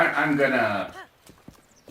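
A voice talks first, then a few hard, sparse horse hoof clops follow after the speech ends, in The Legend of Zelda: Breath of the Wild.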